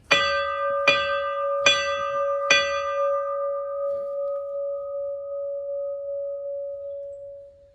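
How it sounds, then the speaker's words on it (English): A fire station's fire bell at a fire department museum strikes four loud, evenly spaced clangs, each ringing on, then a long clear tone that slowly fades. "Suddenly, the fire bell rang."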